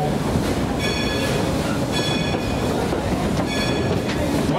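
The Dollywood Express, a theme-park train, rolls steadily along its rails with a constant loud rumble and recurring high wheel squeals, heard from on board.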